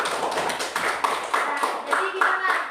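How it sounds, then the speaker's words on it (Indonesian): Classroom of students clapping hands together in short, rhythmic bursts at close range, with voices mixed in. "Tepuk tangan dulu."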